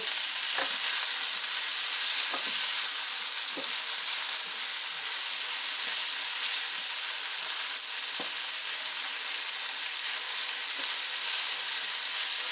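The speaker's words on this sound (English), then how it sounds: "I'm going to fry them up until they're all nice and crispy golden brown" Snacks fry in oil in a pan until crispy, an unbroken, loud, close sizzling hiss with occasional faint pops and taps, heard alone.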